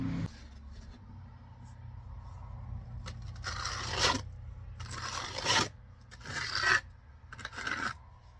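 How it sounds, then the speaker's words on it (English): A trowel drags concrete mortar over stone veneer on a front porch column, several rough rasping scrapes in bursts over a low steady hum, close up. "I just drag the concrete up on the trowel"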